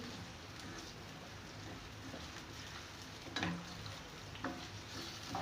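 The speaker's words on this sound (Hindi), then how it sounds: "मैंने प्याज ब्राउन करने के लिए रखी थी, सॉफ्ट करने के लिए" Onions fry in a pan for a chicken stew, giving a soft continuous sizzle with a few brief clinks and stirring scrapes, close and moderately quiet, with no talking.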